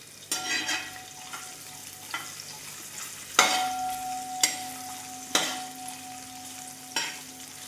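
Chopped coconut pieces fry in a pan for a beef dry fry, sizzling steadily while a utensil scrapes and stirs in several sharp, close strokes spaced a second or two apart.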